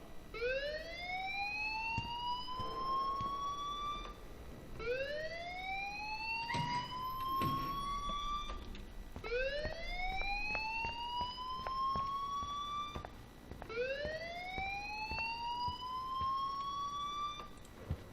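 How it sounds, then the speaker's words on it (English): A fire alarm in the Life Is Strange video game wails in four long rising sweeps, each climbing steadily in pitch before cutting off, repeating at a steady pace with no voices over it. "please turn off that alarm"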